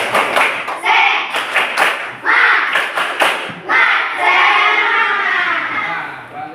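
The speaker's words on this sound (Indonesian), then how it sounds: "Tepuk semangat." An elementary school class does a rhythmic spirit clap, short synchronized bursts of hand claps and thumps in patterned groups, mixed with children's voices chanting and calling out between the beats.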